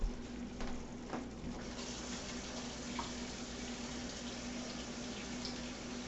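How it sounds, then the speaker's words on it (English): Water poured into a pan of beef stroganoff, a steady splashing trickle over a low kitchen hum, fairly faint and continuous without talk. "I'm going to add just a little bit more water to it"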